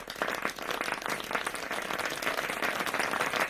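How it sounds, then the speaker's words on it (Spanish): Audience applause at the close of a Spanish business talk on AI sales agents, a thick steady round of clapping from a room of people, fairly loud and unbroken throughout. "un fuerte aplauso para acabar, por favor, a Néstor"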